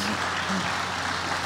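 An audience at a public conversation with Elena Poniatowska and Almudena Grandes breaks into dense, continuous applause that fills the room and holds at an even level throughout.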